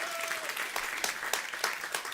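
Steady applause from an audience at a food-and-health event, dense clapping with a few sharper bursts rising out of the wash, held evenly throughout.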